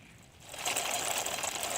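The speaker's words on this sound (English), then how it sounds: "No, that's not a nice engine sound." An engine sound effect being tried out, a small, buzzy motorbike- or chopper-like rattle that starts faintly, swells after about half a second, then runs as a steady, fairly quiet whirring drone.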